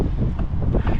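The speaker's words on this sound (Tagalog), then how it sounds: "So ayan, lakas ng hangin no." Strong wind buffets the microphone at a lakeside overlook above Taal Lake during car camping, a brief, loud, low rumbling gust with no other sounds.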